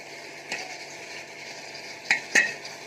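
Tomato stir-fries in a pan, giving a low, steady sizzle. Three sharp scraping strokes of a spatula stand out, one early and two close together near the end.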